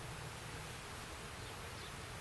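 Honey bees at an open hive being smoked give off a faint, steady buzzing hum that holds evenly throughout, with no voices over it.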